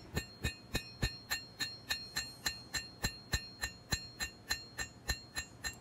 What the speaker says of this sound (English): as I hammer those bevels in, it squeezes the steel